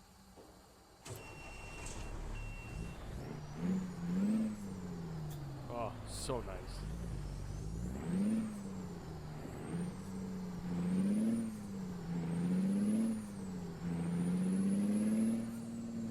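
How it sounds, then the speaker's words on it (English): A truck in the American Truck Simulator video game starts up with a hiss of air brakes, then its engine revs and climbs through gears in repeated rising surges, loud and close, while someone briefly speaks over it. "this new engine, my goodness, does it sound amazing"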